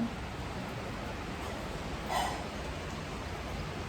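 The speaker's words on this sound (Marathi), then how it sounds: "बघा पाऊस केवढा पाहिलं का" Steady rain falls outside a balcony, a constant soft hiss with no break, moderately faint and heard on its own.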